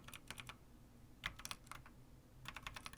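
A website address is typed on a computer keyboard in quiet, close-up clusters of rapid key clicks separated by short pauses.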